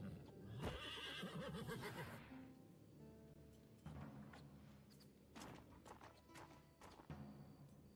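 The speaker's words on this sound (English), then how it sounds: "Horse." A horse in the video game Wartales lets out a loud whinny near the start, followed by softer thumps and clops of game sounds, with faint talk under it.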